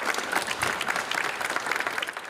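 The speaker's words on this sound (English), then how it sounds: "Applause erupts in Waterloo Region Council chambers, celebrating the latest recipients of the Upstream Fund." A crowd in the Waterloo Region Council chambers claps steadily, a dense, even patter of many hands at moderate distance that holds throughout without voices.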